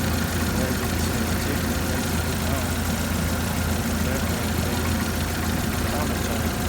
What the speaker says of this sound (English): It's gonna have a slight tick when it first starts, like every Jeep, until it builds oil pressure